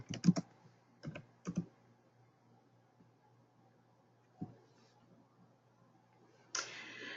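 Typing on a computer keyboard to enter a search on the Google homepage, a few sparse clusters of close key clicks separated by quiet pauses, ending with a brief hiss.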